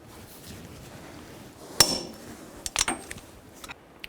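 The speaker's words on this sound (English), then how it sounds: "I'm going to torque this axle nut to" A torque wrench tightens the front axle nut to 177 foot-pounds on a 2002-06 Chevy Avalanche hub, with a sharp metallic clank followed by a cluster of quick clicks and lighter clinks in a quiet garage.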